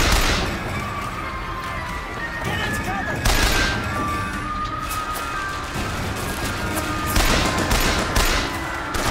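Gunfire in the video game Bioshock Infinite, a dense run of shots and bursts through the whole stretch, loud with heavier peaks near the start, middle and end, mixed with other game noise.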